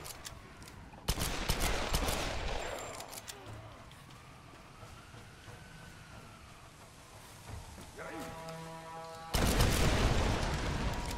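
Bursts of gunfire in Tomb Raider, a loud volley at the start and another near the end, with quieter rattling and game ambience between them.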